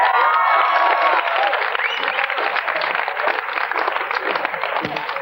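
A large studio audience at a game show cheers, shouts and claps loudly and continuously, a dense close roar of voices and applause that holds steady and fades slightly at the end.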